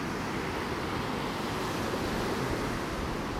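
Steady wind roars across an open beach in North Naples, Florida, a continuous broadband rush blended with the wash of surf, no voices.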